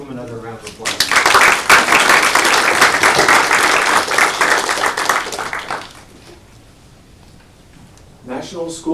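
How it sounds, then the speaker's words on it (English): Audience at a school board meeting bursts into loud, sustained clapping for about five seconds that fades out, followed by quiet room tone before a voice starts speaking. "Let's give them another round of applause."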